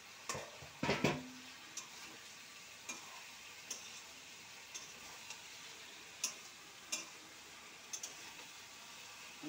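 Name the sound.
stirring fish head in a pot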